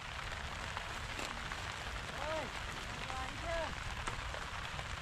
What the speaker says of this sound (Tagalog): Ngayon na naman yung ulan.